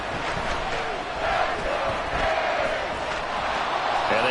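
NFL football stadium crowd: a dense, continuous roar of many voices with shouts rising and falling, steady and loud, with some talking mixed in.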